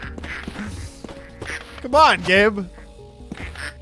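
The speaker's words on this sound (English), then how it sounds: "I don't know how there are so many ducks over here." A couple of nasal duck quacks come from the ducks in the video game Project P.I.T.T. They rise briefly over a voice and soft game background sounds.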